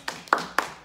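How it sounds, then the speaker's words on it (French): A class claps in short, separate bursts, four quick sharp claps spread across under a second, fairly soft and with no voices. "On l'applaudit, s'il vous plaît."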